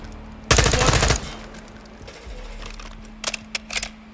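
Call of Duty gunfire shooting down a missile, a loud burst of rapid automatic fire for about half a second, then quieter scattered shots and a few clipped metallic clicks.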